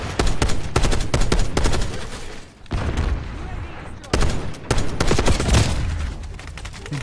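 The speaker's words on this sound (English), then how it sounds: "but it's a machine gun" Machine gun fire in the video game Black Ops 6, loud rapid bursts in long runs broken by brief pauses, close and dominant, with someone talking underneath.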